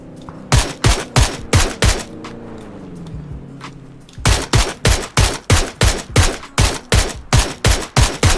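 Gunfire in the PUBG video game: a loud, close, steady run of repeated single shots, then a pause while an engine hums, then another rapid regular string of shots.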